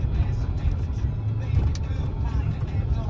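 A 2013 Toyota Tundra pickup on the road, heard from the cab: a steady low engine and road rumble with small bumps, and someone talking over it.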